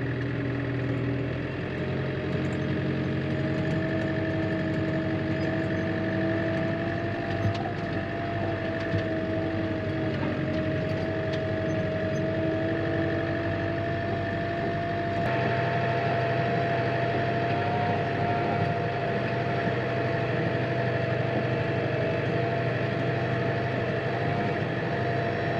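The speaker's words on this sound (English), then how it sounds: "this is the first time I've driven a tractor out here since" A tractor engine runs steadily for about 25 seconds during tree work and grass seeding on a farm, a constant low droning hum that shifts slightly in tone midway.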